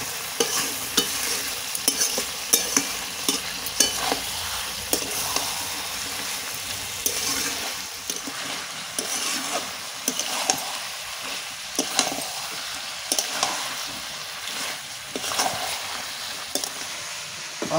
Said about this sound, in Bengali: মাংসটা ভালো করে কষে নিই।